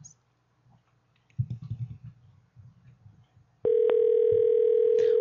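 A prank telephone call rings out: faint clicks and low murmuring lead into a loud, steady telephone tone that cuts in abruptly and holds to the end.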